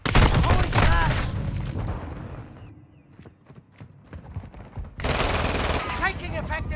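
Video game gunfire comes in rapid, loud bursts of automatic fire at the start and again near the end, with a quieter gap of scattered shots in between, mixed with game voices and callouts.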